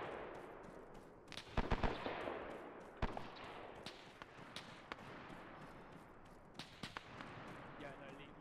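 Sharp rifle gunshots from test firing in Arma 3, a pre-WW2 marksman game: a quick cluster of several cracks, then scattered single shots with short echoing tails over a steady ambient backdrop.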